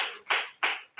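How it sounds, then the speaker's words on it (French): Congregation applause during a French-language church service, three short rhythmic claps in even succession, moderately close and alone. "Applaudis pour le Seigneur"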